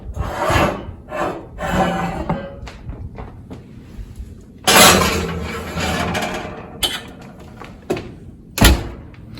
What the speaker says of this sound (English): Put this into the oven.